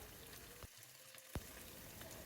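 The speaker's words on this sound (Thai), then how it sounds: "ระหว่างนี้ก็จะผัดปูไปเรื่อยๆนะคะ" Crab stir-fries in a pan, a continuous sizzling hiss with a couple of sharp knocks, likely a spatula striking the pan, standing out partway through.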